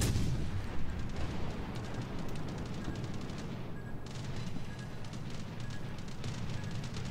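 Enemy ship shells firing and bursting in a naval warship video game, a dense rumbling barrage of distant booms and crackling impacts that rolls on continuously without pause, with no talking.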